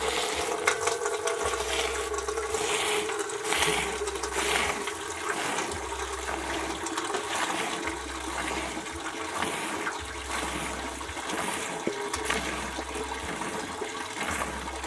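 A goat or cow is hand milked into a container in a Kenyan village, with rhythmic streams of milk hissing and splashing in regular pulses, close and steady.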